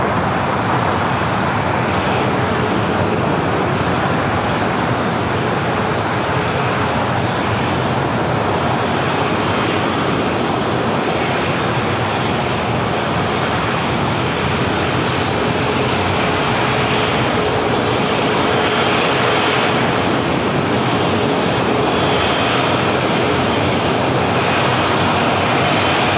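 An American Airlines jet takes off from runway 25 right at LAX, a loud, continuous engine roar filling the whole stretch without letup.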